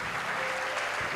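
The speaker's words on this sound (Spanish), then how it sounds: "Fuerte el aplauso porque es para Él." Church congregation applauding loudly for God during a sermon, a dense, continuous roar of clapping hands filling the room with no pause.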